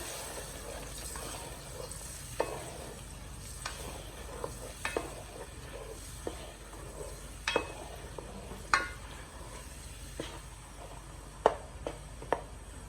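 Gari stirred with fish and shrimp in a pan for Ghanaian gob3: faint low sizzling with scattered spoon scrapes and clinks against the pan, fairly quiet and close.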